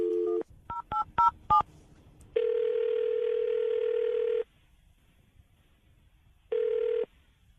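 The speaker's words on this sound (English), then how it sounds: "I'm going to dial the phone number right now." A telephone gives a rapid run of touch-tone dialing beeps, then a long steady dial or ringback tone, a pause, and one more tone, clean and close with no voices.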